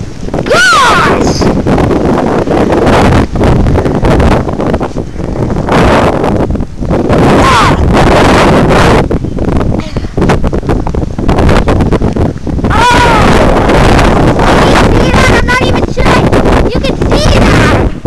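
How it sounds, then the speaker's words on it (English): Strong blizzard wind blasts continuously into the microphone in loud, roaring gusts that surge and ease across the whole stretch, with excited voices shouting now and then over it. "The winds are blowing!"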